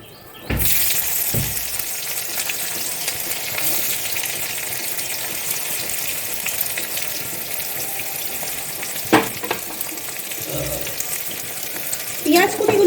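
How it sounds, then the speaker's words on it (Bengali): Chopped onions sizzling in hot oil alongside dried red chillies, a steady loud frying hiss throughout, with a few sharp clinks and scrapes of stirring near the end. "পেঁয়াজ কুচিগুলোকে দেওয়ার পর ভালো করে নেড়ে চেড়ে ভেজে নিতে হবে।"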